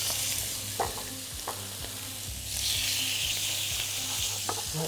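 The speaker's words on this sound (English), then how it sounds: "So we want to hear that really nice sizzling sound straight away." Chicken livers in olive oil sizzle steadily in a hot pan, a continuous bright frying hiss with intermittent stirring clicks and scrapes, close and moderately loud with no talking.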